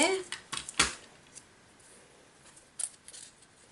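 An adhesive tape runner is drawn along a card, making a few short, crisp clicking and ticking bursts close by, followed by quieter scrapes and a brief tick near the end. A voice can be heard faintly in the background.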